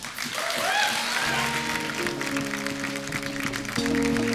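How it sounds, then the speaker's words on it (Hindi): Dense, sustained applause from a studio audience on a Hindi talk show, steady and full throughout, with music or tonal sounds underneath. "एक बार अरुणा जी के लिए और बिंदु जी के लिए जोरदार तालियां हो जाएं।"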